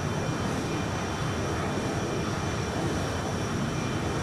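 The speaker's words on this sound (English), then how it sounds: "the airplane then starts to go up in the air" McDonnell Douglas F-4 Phantom jet in the Flight Simulator X game, a steady loud broadband engine roar with a constant high whine, no talk.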